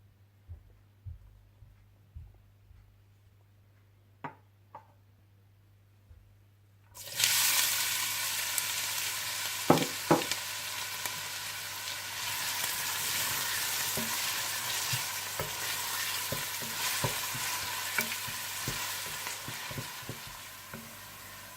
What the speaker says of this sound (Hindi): ऑयल गर्म कर लीजिए और ऑयल में प्याज डालकर हल्के से गोल्डन ब्राउन कर लीजिए।